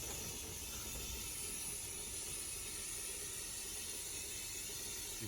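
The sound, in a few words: powder coating spray gun blowing air and powder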